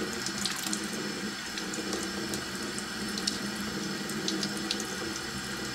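Tap water runs steadily into a sink, rinsing honey off a liquid-proof shirt, a close, continuous hissing splash with no pauses and no talking.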